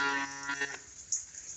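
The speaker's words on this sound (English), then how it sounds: "There's at least a couple of cows on the other side of the creek. They were bellering." A cow lets out a single drawn-out moo that fades into a quiet rural background, part of a herd on a farm near a creek.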